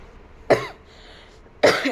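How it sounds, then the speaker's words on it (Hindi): Two separate harsh coughs, close and loud, about a second apart, with quiet in between. "थोड़ा खांसी आ गई दोस्तों"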